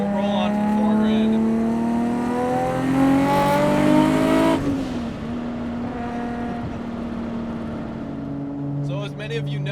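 A 1,200 HP Mk4 Toyota Supra on fat, barely street-legal rear tires revs its exhaust loudly and close by, the pitch climbing hard, dipping briefly, then climbing again.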